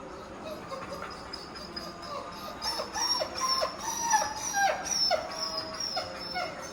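Newborn German Shepherd puppies nursing let out repeated thin whimpers and squeaks close by, rising and falling irregularly over a quiet background hiss, with soft talk faintly present.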